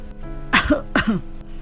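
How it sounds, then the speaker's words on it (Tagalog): Two sharp, close coughs in quick succession, harsh and throaty, separated by a short pause against a quiet background. "Sunod-sunod na pag-ubo ng dalaga"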